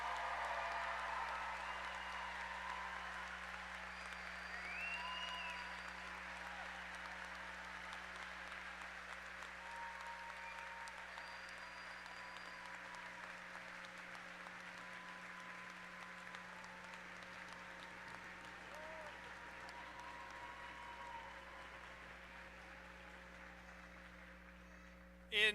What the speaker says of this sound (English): Can we please have one more round of applause for the class of